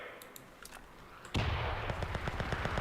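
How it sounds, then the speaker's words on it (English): Artillery fire in the World War II shooter Enlisted, a sudden heavy blast followed by rapid rattling gunfire and booms in a busy battle. "Calling in artillery!"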